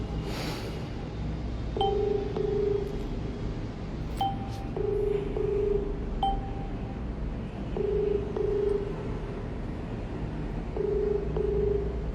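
An outgoing phone call to a police station officer rings on the line, a soft double-pulsed ringback tone repeating four times at steady intervals over low background hiss.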